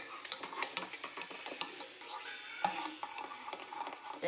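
Chopsticks stir a finely chopped chilli mixture in a bowl, giving rapid, rhythmic clicking and scraping taps, close and fairly loud.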